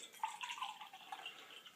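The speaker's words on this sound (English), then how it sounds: "A cup of water." Water poured into a small cup for testing a tiny alcohol stove: a faint, short trickle with light splashes and drips, close by and heard alone.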